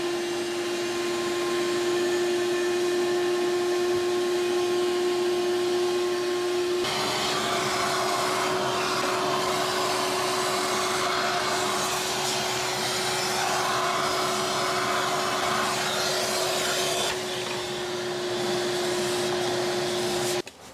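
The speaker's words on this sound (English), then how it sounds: "I'm going to go get a vacuum cleaner with a brush now and very gently" A vacuum cleaner with a brush attachment runs steadily while cleaning refrigerator evaporator coils, giving a loud, continuous motor whine whose airflow roughens and changes tone as the brush works the coils, then cuts off at the end.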